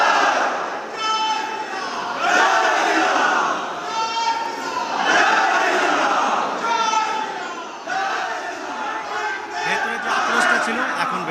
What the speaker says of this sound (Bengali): নবান্নে যারা কর্মী, তাদের সেলিব্রেশন, গেরুয়া আবির এবং সঙ্গে জয় শ্রীরাম স্লোগান